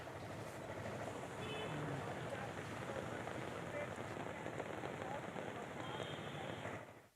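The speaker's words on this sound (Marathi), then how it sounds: "आज सकाळच्या सुमारास पुन्हा एकदा पावसानं जोर धरलेला आहे" Heavy morning rain pours onto a waterlogged street in the King's Circle area of Mumbai, an even, distant hiss of falling water that holds steady throughout before fading at the end.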